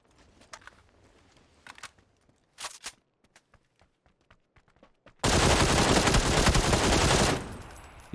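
Short bursts of rapid hip-fired gunfire in PUBG crackle at a distance, then one sustained, loud, close stream of automatic shots runs for about two seconds before cutting off.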